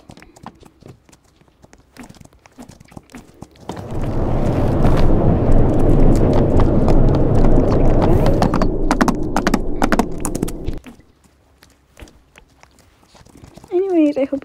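Horse hooves clip-clop in a horse video game, with a dense, loud stretch of rapid hoofbeats lasting several seconds between quieter, sparse sounds at the start and end.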